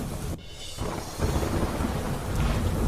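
Heavy downpour in Kheda district, Gujarat, with strong wind: a dense, steady hiss of rain and a deep rolling thunder rumble close by, with no voices.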